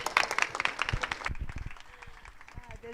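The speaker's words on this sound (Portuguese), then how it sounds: "Uma salva de palmas para a nossa convidada." Audience at a history talk welcomes a guest speaker with a short burst of applause that fades after about a second and a half, leaving only a few scattered claps and quiet room noise.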